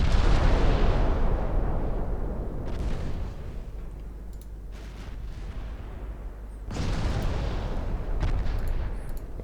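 Warship main guns firing in a Norwegian Campaign 1939 naval game: two heavy booming salvos with deep rumbling tails, the second arriving about seven seconds after the first, with fainter impacts in between.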